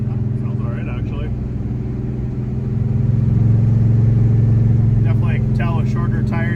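A Chevy C10 pickup with a 400 small-block V8, Purple Hornies mufflers and dual 3-inch mandrel-bent exhaust drones steadily while driving, rising slightly in pitch midway, with someone talking over it at the start and end.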